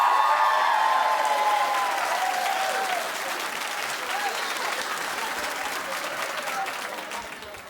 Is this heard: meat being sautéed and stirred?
no